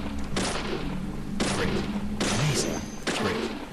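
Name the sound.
gunshots shooting zombies in the video game Deadly Premonition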